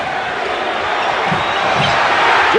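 Arena crowd on its feet at the 1988 NBA Finals Game 7 between the Lakers and Pistons, a dense, steady roar of cheering that swells slightly toward the end, with faint ball bounces underneath.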